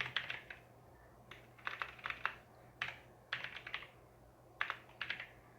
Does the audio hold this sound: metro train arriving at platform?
no